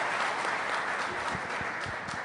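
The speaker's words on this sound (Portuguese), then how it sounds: "Podem aplaudir." Audience applause at a debate on solid waste in São Bernardo, a steady wash of many hands clapping that fills the whole stretch at an even level, with no voices over it.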